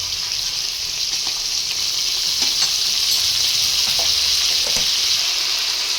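Ginger paste fries in hot oil in a pan while fish curry is being made, giving a loud, steady hiss of sizzling with light stirring scrapes, close and continuous.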